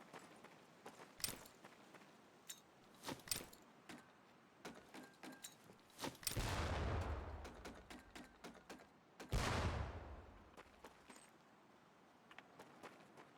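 Training grenades explode near barrels in Medal of Honor: Pacific Assault, two booming blasts with long rumbling decays several seconds apart, amid scattered footsteps and small clicks at low volume.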